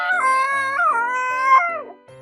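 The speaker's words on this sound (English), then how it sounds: "Woof, said Hercules Morse, and off he went" Dog giving a drawn-out wavering howl, a few rising and falling tones close by, alone and fading out at the end.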